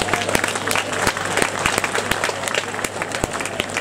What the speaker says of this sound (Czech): tak oni vám určitě s radostí zatleskají